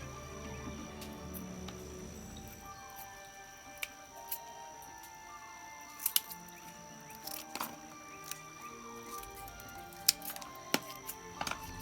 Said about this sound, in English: I'm going to go ahead and trim that off as well.